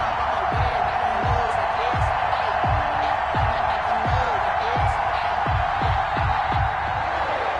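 A stadium crowd roars and cheers in an NFL football video game, a dense steady wash of noise with rhythmic thumps, under a broadcast-style announcer voice.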